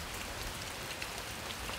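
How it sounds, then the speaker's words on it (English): Rain falls steadily outdoors, a dense and even patter with no pauses and no voices. "So it's raining now"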